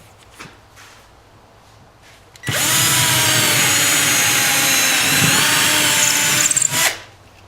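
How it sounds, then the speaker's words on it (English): A power drill pre-drills a pilot hole through a 2x4 stud for pegboard screws in a garage, one steady high whine lasting about four seconds and stopping abruptly, close and loud with no talk over it. "Then you're going to pre-drill it."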